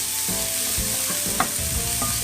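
Chopped garlic and chorizo frying in a pan with softened onion, a steady close sizzle broken by scraping stir strokes and a sharp utensil tap near the middle.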